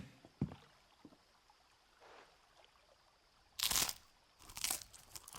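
Crunchy tavern bread being eaten by characters in Final Fantasy XVI: soft, faint crunching bites at first, then two louder, crackly crunches close by near the end, over quiet ambience.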